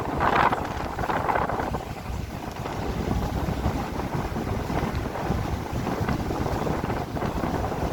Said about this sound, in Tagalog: Pero yung hangin sobrang lakas.